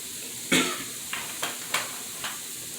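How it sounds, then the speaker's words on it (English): Alligator meat sautéing in a pan, a low steady sizzle broken by several distinct stirring scrapes and clanks, the first one loudest, spaced unevenly across the stretch. "So after I saute my Gator meat off really good"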